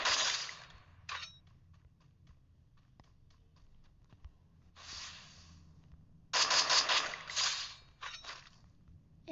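Gunfire from the Free Fire battle-royale video game crackles in short, sharp bursts separated by quiet gaps, with a longer rapid volley near the end.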